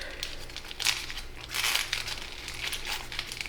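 Paper crinkling and crackling in quiet, irregular bursts as an origami fiddler crab model is shaped with an inside reverse fold, close and soft with a few sharper rustles.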